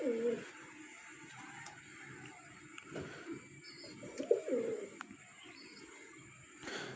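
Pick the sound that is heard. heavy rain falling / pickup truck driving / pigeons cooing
pigeons cooing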